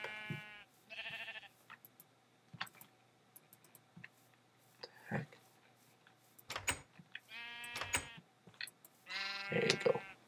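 Blocky video-game sheep in a Minecraft-style world let out several short, nasal bleats in bursts, some overlapping. Soft clicks of game input sound between them.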